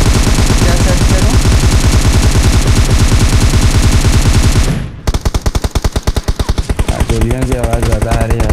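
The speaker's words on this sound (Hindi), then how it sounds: "गोलियों की आवाज़ ज़्यादा आ रही है" Loud automatic weapons blaze in PUBG Mobile's zombie mode Darkest Night. A dense, unbroken stream of rapid shots gives way to a pulsing run of separate cracks over a busy game mix.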